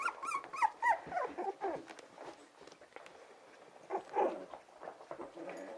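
Several dogs playing indoors in a lively, high-energy house, with bursts of barking, growls, whimpers and scrabbling paws on the floor, loud and close, coming in uneven clusters with no one speaking.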